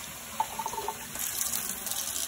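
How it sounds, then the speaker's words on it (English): A quarter cup of water is poured into a cup of soy sauce while making pepper steak, giving a faint, steady trickle close by that keeps running to the end with no one talking. "I'm going to add about a quarter cup of water to it."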